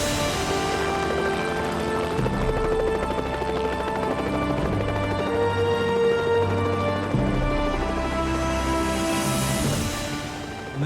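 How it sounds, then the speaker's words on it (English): A helicopter approaches over alpine mountain peaks, its rotor and engine drone loud and steady, with a rich layered hum that swells slightly before easing near the end. "Moments later, I heard that helicopter approach."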